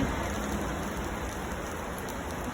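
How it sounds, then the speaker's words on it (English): Steady rain pours down on an unseasonably wet spring day, a dense, even hiss of falling drops with no break and no voices. "There shouldn't be any rain, but there's rain."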